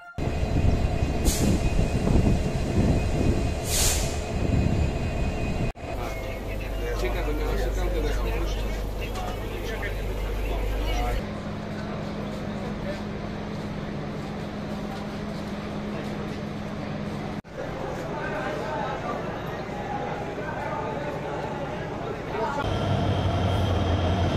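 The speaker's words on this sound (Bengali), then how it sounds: "12:30 ট্রেন ছেড়ে গেল কক্সবাজার এক্সপ্রেস" The Cox's Bazar Express intercity train pulls out as a loud rumble and rhythmic clatter of wheels and cars, with low engine drone and shifting hum, while a voice talks over parts of it.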